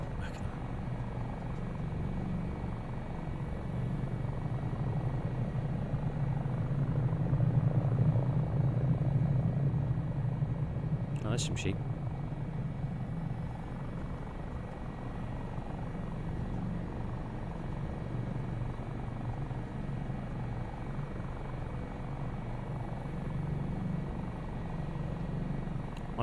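A Dauphin helicopter flying in Microsoft Flight Simulator, a steady low rotor and turbine drone that swells slightly midway and holds throughout, with someone talking briefly over it.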